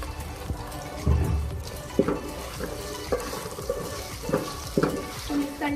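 Chicken, vegetable and macaroni are stirred in a pan, with soft scraping and clinking strokes at an uneven pace close by, under a faint sizzle.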